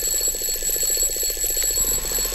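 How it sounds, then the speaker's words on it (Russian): Alarm clock ringing in the Roblox game Doors, a steady rapid beeping pulse held at even loudness throughout, alone with no voices. "Будут ли они реагировать на будильник?"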